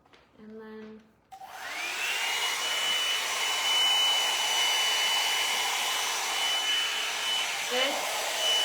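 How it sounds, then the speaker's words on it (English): A brief hum gives way to a hair dryer switching on, spinning up and blowing steadily and loudly at close range for several seconds, drying product through eyebrows. "you just run your hair dryer through it"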